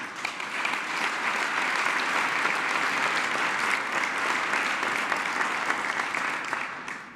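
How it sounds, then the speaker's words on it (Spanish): Sustained applause from a large crowd at an official event in the Palacio Nacional, steady and fairly loud throughout, tapering slightly at the very end. "Un aplauso también para todos ellos."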